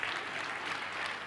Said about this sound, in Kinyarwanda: Iyi brage muyikomera amashyi.